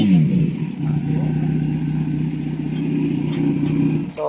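A Kawasaki Z900 motorcycle with an R11 aftermarket exhaust revs steadily and loud up close, a deep continuous engine drone with slight rising and falling throttle, no talking over it.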